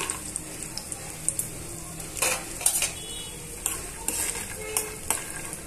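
Roasting 100 grams of peanuts in hot oil for a green chilli peanut chutney: a soft, steady frying hiss broken by repeated scraping stir strokes and clinks of a spoon against the pan.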